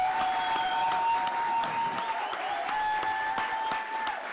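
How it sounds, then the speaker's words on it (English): Audience applause at a crypto launch event, honoring the MC, sustained and moderately loud, with a few sharper claps over a steady roar and a faint tonal hum running beneath. "why don't we give a round of applause for Victoria"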